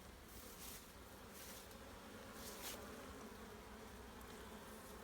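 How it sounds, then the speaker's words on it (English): Bees buzz in an apple orchard after a drizzly day, a faint, steady hum of wings with a few closer passes swelling briefly over soft outdoor background noise. "the bees are active now"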